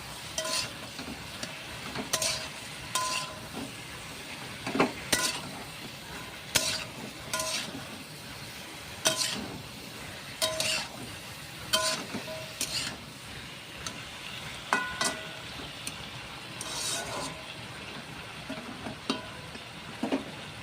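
Split pea dal with bottle gourd fries in a pan while a spoon stirs it, giving soft sizzling under a run of regular scraping strokes, a few seconds apart and fairly quiet.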